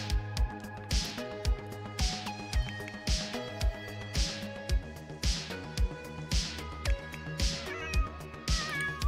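A cat meows loudly and repeatedly in a drawn-out, sing-song way, its calls recurring in a steady rhythm through the whole stretch, close to the microphone.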